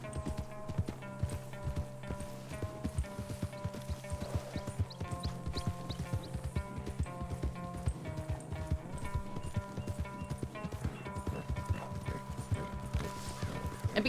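Horse hooves clip-clop steadily during video game riding, a fast continuous trotting rhythm over layered game music, with no talk.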